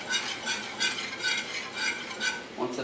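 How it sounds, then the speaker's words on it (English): Quick rhythmic whisking of sauce in a pot, a regular scraping swish repeating about twice per second, close and fairly quiet. "Alright, whisk that in."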